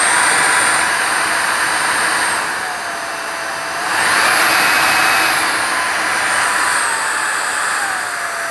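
A Shark IZ400UKT cordless vacuum cleaner runs steadily and close up, its loud airy rush carrying a high motor whine that dips briefly in the middle and then rises again, with no voices.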